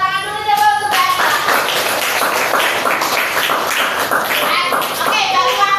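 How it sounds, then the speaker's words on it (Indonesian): Classroom clapping during a teacher training session on Islamic studies, a burst of many hands slapping in a quick, steady rhythm at close range, with a voice talking briefly at the start and end. "Oke, yang pertama Mbak Akila beri tepuk tangan dulu ya untuk Mbak Akila."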